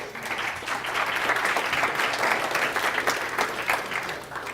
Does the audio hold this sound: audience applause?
yes